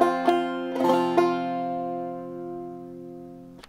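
A clawhammer banjo plays the opening measure of Mulberry Gap: a few plucked and brushed notes up front, then a long ringing decay, close and solo.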